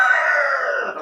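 A chicken kept in a small home coop inside a house lets out a single loud, drawn-out crowing call at close range.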